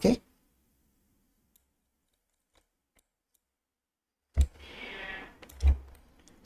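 Sparse, faint computer mouse clicks register while working in CAD software to fill holes in an STL model, isolated single taps over near-silence, followed by a louder burst of handling noise.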